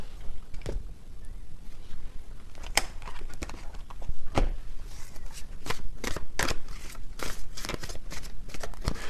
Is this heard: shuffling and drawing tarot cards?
yes